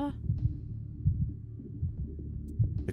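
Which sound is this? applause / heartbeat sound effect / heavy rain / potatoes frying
heartbeat sound effect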